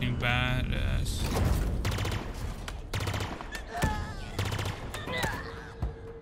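Rapid automatic gunfire from a gun in the video game Halo Infinite, loud bursts of shots with mechanical clicks and electronic game tones across several seconds.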